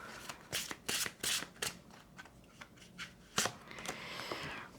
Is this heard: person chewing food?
no